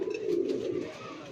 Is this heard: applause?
no